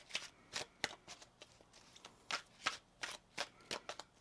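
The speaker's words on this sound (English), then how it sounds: "One more shuffle now." Tarot cards are shuffled by hand in a quiet room, a run of crisp riffling bursts about every third of a second, close and fairly soft.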